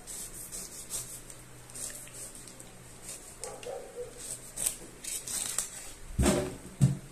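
A sharp knife trims the rind from a pineapple: soft, close scraping and rubbing strokes with a few louder cutting thuds toward the end, and no talk.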